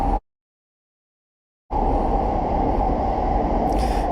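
A Shinkansen bullet train rushes past after a brief silence, a sudden loud, steady roar of wind and rail noise that holds without a break to the end.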